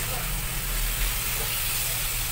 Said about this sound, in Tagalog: Hanggang sa lalabas yung mantika niya galing sa pork. Ayan guys, tinakpan ko muna siya kasi tumatalsik.